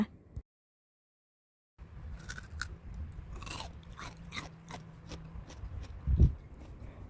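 Crunchy candied winter melon with a thick sugar coating is bitten and chewed up close, giving repeated crisp crunches after a short silence, with a sharp louder bite near the end.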